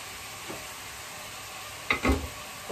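Ginger pork shogayaki frying in a pan, a steady low sizzle under a couple of sharp stirring clatters near the end.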